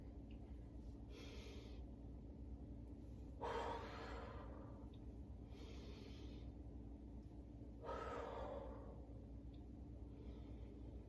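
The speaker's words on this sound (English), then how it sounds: "on your inhale, you're gonna open the chest. And on your exhale, you're gonna curl it back." Slow, steady breathing during a seated yoga rocking movement, with two fuller audible exhalations standing out against a soft, constant background hiss; no talking.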